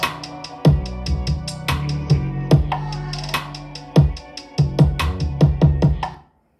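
A hip-hop beat with an 808 and kick: punchy drum hits in a steady rhythm over a sustained booming low bass, loud and upfront, stopping abruptly just before the end.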